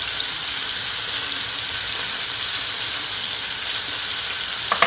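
Butter sizzles loudly on a hot hibachi griddle at home, a dense, steady frying hiss with light crackle and a small clatter at the very end.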